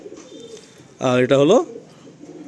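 Big-size Kaldum pigeons kept for sale coo in low, repeated murmurs in the background, while someone speaks briefly and loudly near the middle.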